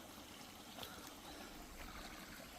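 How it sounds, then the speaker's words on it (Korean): Clear water trickles steadily along a narrow irrigation channel fed from a mountain valley at the edge of a rural property, a soft, continuous, fairly quiet flow with no voices. "졸졸졸 흐르고 있습니다."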